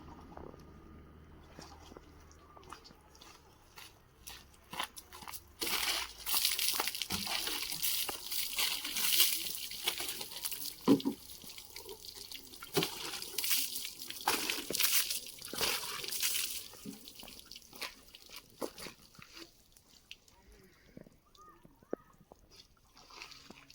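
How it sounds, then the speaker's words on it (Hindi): A car is washed with water from a roadside spring, with uneven splashing and sloshing bursts thrown against the body, moderately loud through the middle and fading toward the end. "चलिए थोड़ा पानी मार के इसको वॉश कर लेते हैं"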